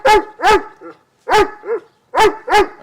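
A muscular, strongly built male Doberman barks loudly and close by: five sharp barks in two pairs and a final pair, with short gaps and a soft whimper between.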